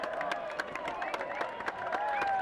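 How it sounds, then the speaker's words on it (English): Stadium crowd at a Loudoun United FC versus Pittsburgh Riverhounds SC soccer match applauding steadily, a dense spread of clapping from many distant spectators with no voices standing out. "That'll draw some applause."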